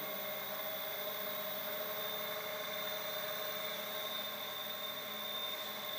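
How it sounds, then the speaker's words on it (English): A Taig lathe driven by a Siemens three-phase motor through a Delta VFD, whirring steadily with a smooth, constant fan-like hum and faint tonal whine, even in level throughout with no talking. "Most of the noise that the motor makes is actually from the fan."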